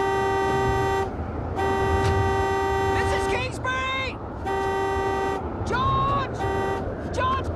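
A car horn blares in long repeated honks during a severe storm, steady tones broken by short gaps, with shouting voices breaking in between blasts over constant roaring wind noise.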